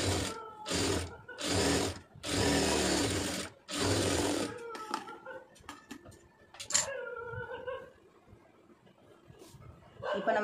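Sewing machine stitching a net blouse: several loud, rapid runs of mechanical whirring and clatter separated by short pauses, followed by quieter handling clicks and fabric rustling.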